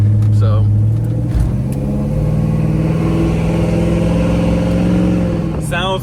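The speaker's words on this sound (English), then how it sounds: "sounds good as well. I believe it has an X-pipe exhaust." A 1972 Oldsmobile Cutlass restomod revs its engine through an X-pipe exhaust, a loud, close, sustained rumble that swells and settles throughout, with brief voices overhead near the start and end.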